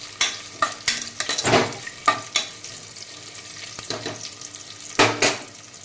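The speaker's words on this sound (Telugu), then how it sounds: "తిప్పేద్దాము." A spoon stirs cinnamon, three cardamom pods and mace frying in hot oil in a pan for palak paneer pulao, giving a steady close sizzle broken by repeated clinks and scrapes against the metal.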